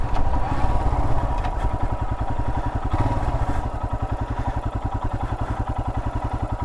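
A Royal Enfield Himalayan motorcycle engine idles steadily up close at about 1,000 RPM, a low rhythmic putter with a slight mechanical clatter, holding an even pace throughout.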